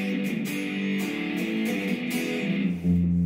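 Distorted electric guitar through a Line 6 POD XT Live effects unit with a gritty, crunchy tone, sustained chords ringing and shifting, played up close with no talking.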